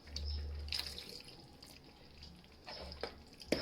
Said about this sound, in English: So now the next thing I'm going to do is to add some water